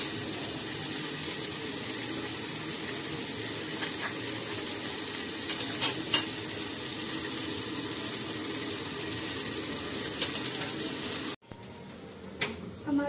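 Chicken pieces sizzling steadily in butter after being seared on the sides, a dense continuous frying hiss with occasional crackles and pops, ending with a sudden drop into quieter background.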